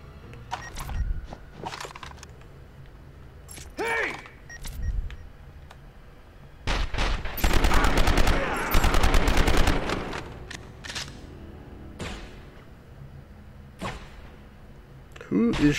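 Bursts of gunfire from the 2006 PlayStation 2 game 24: The Game, including a dense rapid-fire volley in the middle, with scattered single shots around it and a player talking and laughing throughout.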